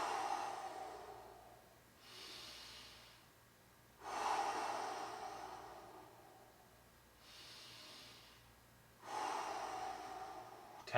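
Heavy breathing while resting between workout intervals: slow, deep inhales and exhales alternate in long, close, audible breaths, about five in all, with no talk over them.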